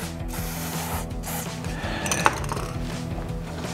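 A 2019 Kawasaki Ninja ZX-6R rear wheel turns with its chain ratcheting and rubbing in a close, clicking mechanical rattle, with a small metallic clink partway through.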